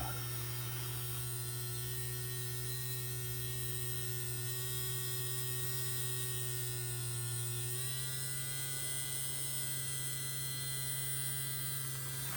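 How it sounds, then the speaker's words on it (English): A small fan blows air through a hickory wood smoker, making a steady, even electric hum with a whining tone that shifts slightly partway through and keeps going without a break, with no talking. "There's a little fan in here, you will hear it, what blows air through it."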